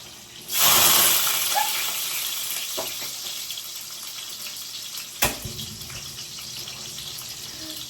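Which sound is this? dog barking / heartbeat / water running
water running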